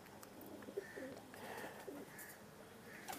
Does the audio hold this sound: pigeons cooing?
yes